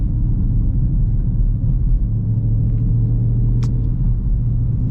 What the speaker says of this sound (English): Let's do a little bit of some highway driving.